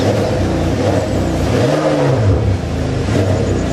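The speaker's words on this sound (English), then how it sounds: "then you can hear it accelerating on this, you know, just revving it up" A Ferrari 599 engine revs up loudly, its pitch rising and falling in a throaty sweep, close and dominant with no talking.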